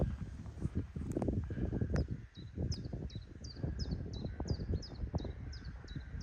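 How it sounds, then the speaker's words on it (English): Crows calling over an open field at the Naseby battlefield site, a series of repeated harsh caws at a moderate distance against faint wind and background rumble. "It's a murder of crows"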